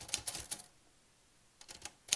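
A typewriter clacks in two quick bursts of keystrokes separated by a pause of near silence, crisp and close with no voices.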